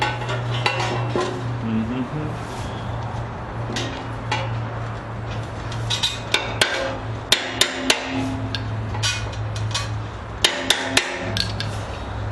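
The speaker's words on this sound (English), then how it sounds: "on this with a hammer a little bit in the corners" Light hammer taps ring out on the corners of a metal part for a homemade Welbike frame, irregular sharp strikes, clustered in quick bursts, over a constant low hum.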